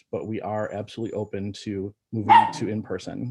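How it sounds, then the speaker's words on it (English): A small dog barks in the background during an online school district board meeting, its barking partly buried under a person speaking steadily. "Pardon that little barking."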